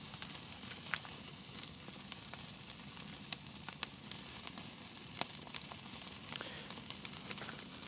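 Ribeye steaks sizzle steadily in a hot pan, a constant crackling fry with occasional sharper pops, fairly quiet and close.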